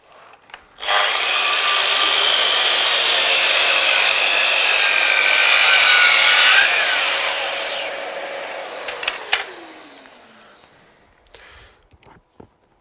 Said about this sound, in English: So working with the KS60 is really simple to cut compound angles at 60 degrees and also beveling over at 45 degrees as well.